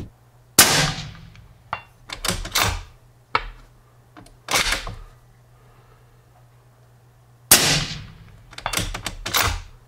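Sharp, loud gunshots from a 20-223 Ackley rifle firing 55 grain Berger bullets, each a crisp close crack with a short ringing tail, fired singly and in quick clusters with quiet gaps between.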